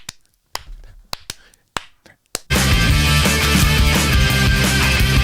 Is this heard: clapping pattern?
yes